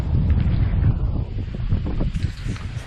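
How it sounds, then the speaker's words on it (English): Breezy wind sweeps across a rocky Grand Cayman shore, a loud, gusty rumble buffeting the microphone throughout the short stretch with no talk. "Kind of breezy"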